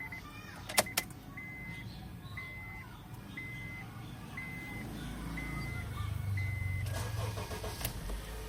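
A 2011 Honda CR-V with a 2.4L engine is started with the key inside the car: a few clicks and a chime, then the engine catches and settles into a steady low idle.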